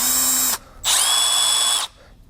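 An older Milwaukee M12 Fuel Gen 2 bit driver whines loudly, close by, in two bursts, a half-second run and then a longer one of about a second, with a brief pause between and no voices.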